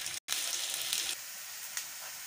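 Potato and Bombay rava cutlets shallow-frying in oil, a close, steady hiss that cuts out for an instant near the start, then drops to a softer sizzle partway through, with a faint clink toward the end.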